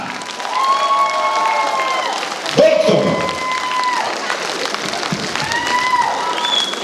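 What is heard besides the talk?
audience applause at concert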